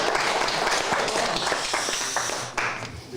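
An audience at a live woodturning demonstration claps for about three seconds, a dense patter of many hands that thins out toward the end.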